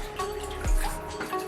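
A baby being washed in a bathtub, with steady running and splashing water close by, a gurgling swirl in the middle and light splashes throughout, no talking.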